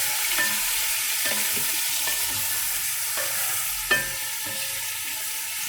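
Meat stirred and fried in a pan, its fat rendering out: a steady, close sizzle with periodic scraping strokes of the stirring utensil, no voices.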